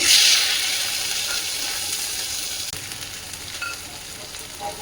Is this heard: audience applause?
no